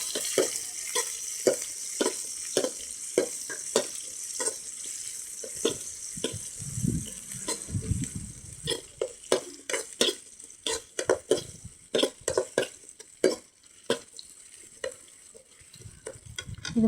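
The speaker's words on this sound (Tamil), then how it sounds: "ஒரு 10 சின்ன வெங்காயம் போல் நான் எடுத்துக்கிட்டேன். அதை நல்லா வதக்கணும்." About ten shallots being sautéed in a pan for a village-style fish curry, a continuous oil sizzle under repeated quick spatula scrapes and taps that grow busier and more rhythmic, close up with no talking.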